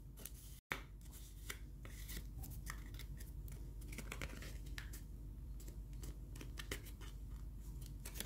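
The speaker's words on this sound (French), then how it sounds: "prenez le ciseau, vous égalisez" Scissors trim scrapbooking paper for a folded octagonal storage box, a run of crisp, close snips at an uneven pace with one brief pause near the start.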